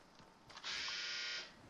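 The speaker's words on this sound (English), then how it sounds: "My dryer just buzzed." A clothes dryer's buzzer sounds once as a faint, distant, sustained electronic tone lasting under a second, over quiet Fortnite game sounds.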